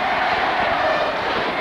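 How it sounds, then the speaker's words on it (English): Home crowd at a 1993 UAAP Season 56 basketball finals game between UST and Adamson roaring in a big arena, a dense, steady wash of cheering and shouting that holds loud and continuous throughout. "UST crowd already rejoicing here"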